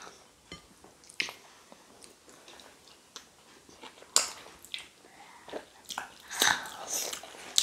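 Biting and chewing of egusi soup with fufu at a mukbang meal, wet squishy mouth sounds in irregular close bursts, a few louder smacks near the end, no talking.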